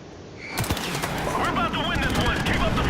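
A video-game UZI submachine gun fires a rapid, sustained stream of shots close up, continuous after a brief quiet start, with someone talking over it.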